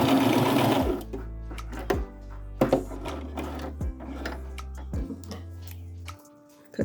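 A sewing machine stitches scrunchie fabric in several close, loud bursts of rapid mechanical chatter, each run starting and stopping abruptly with brief pauses between.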